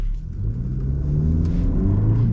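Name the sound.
2023 Hyundai Elantra N-Line engine accelerating at partial throttle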